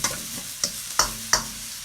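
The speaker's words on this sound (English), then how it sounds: "give it another stir" A spoon stirring sweet corn in a hot pan, giving four crisp scraping clicks at an even pace over a faint sizzle.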